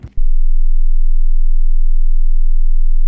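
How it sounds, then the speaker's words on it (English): A steady 20 Hz low-frequency sine test tone played back alone, a deep continuous hum that holds level for about three seconds after a brief click at the start. "So now 20 hertz, you should be able to hear that."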